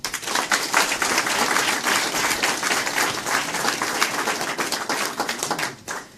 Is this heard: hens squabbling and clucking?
no